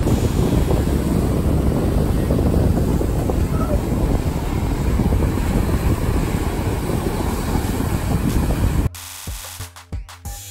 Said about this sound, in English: Waves crashing.